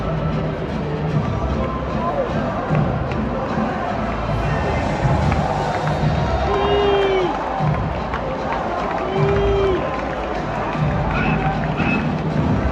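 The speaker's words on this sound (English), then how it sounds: "There is some Germany fans applauding this Japan team" German fans in a stadium crowd at a Germany versus Japan football match in Wolfsburg keep up a steady, dense roar of applause and hubbub throughout, with a couple of whistle-like tones rising over the noise.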